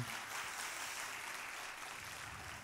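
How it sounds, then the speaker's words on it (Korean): A church congregation at a college and young adult worship service at Irvine Onnuri Church claps together in steady, dense applause that fills the room and holds at an even level throughout. "다시 한번 큰 박수 드리겠습니다"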